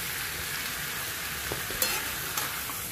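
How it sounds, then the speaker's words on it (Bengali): Onion, garlic, whole ginger and green chili sautéing in a pot with pork fat for a pork dish, a steady close sizzle with a few soft stirring clinks, no talking. "সেখানে আমি সেই পটের মধ্যে পেঁয়াজ, রসুন, আদা গোটা, কাঁচা লঙ্কা দিয়ে প্রথমে একটু সাঁতলিয়ে নেব।"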